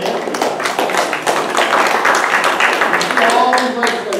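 Dense, steady applause from a large audience at a regional meeting fills the room for several seconds, loud and close, with voices mixed in.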